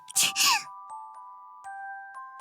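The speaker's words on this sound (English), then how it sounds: "She sneezed behind me." One sharp sneeze bursts out at the start, followed by faint tinkling tones and a lingering high ring.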